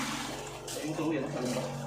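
Running water inside a building at Apo Reef Natural Park, a steady close hiss and splash with light voices talking over it throughout.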